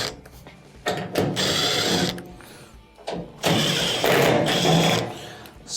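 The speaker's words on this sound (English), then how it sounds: "on the back here we have 3 1/4-inch screws that have to be removed" Three 1/4-inch screws being backed out of the rear of a washing machine's top panel with a power driver, giving two long loud whirring bursts separated by short clicks and handling noise, close up.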